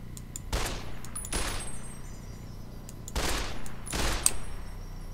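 Bursts of video game gunfire in a first-person shooter, fired in four separate volleys, each loud and close with sharp rapid cracks, and no talking over them.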